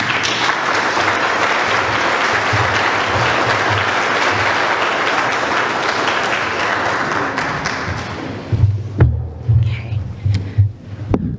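Audience applause welcomes a keynote speaker at a UCLA workshop, steady dense clapping filling the room for about eight seconds before thinning into scattered claps and footsteps near the end.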